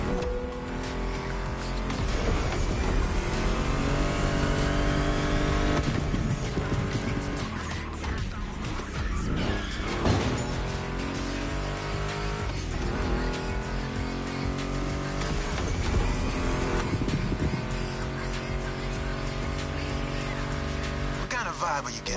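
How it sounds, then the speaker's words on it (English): In the racing game The Crew, a Mustang GT muscle car's engine roars steadily over a long drive, with shifting revs and tire squeals, mixed with music and a voice talking over it. "Meshes well with the sound of the engines, you feel me?"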